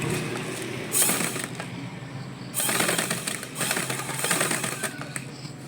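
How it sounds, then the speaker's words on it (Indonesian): Sewing machine stitching folded fabric, in bursts of close, fast mechanical chatter that stop and restart a few times with small handling noises between. "Nah kan, baru kita jahit."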